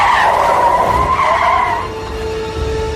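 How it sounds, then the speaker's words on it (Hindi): A car brakes hard and skids to a sudden stop, a loud tire screech that holds steady and then fades out with no other sounds around it. "कमल ने एकदम अचानक से बहुत तेज गाड़ी की ब्रेक लगाई"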